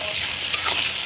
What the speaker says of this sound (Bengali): এবার তেলটা দিয়ে ভালো মতো কষিয়ে নেব। এই যে চলছে আমাদের কষানো প্রস্তুতি।